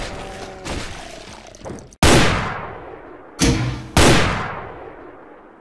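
Heavy gunfire from the assault rifle in the video game Brutal Doom: a muffled opening passage, then three loud booming shots with ringing tails, spaced irregularly and close up.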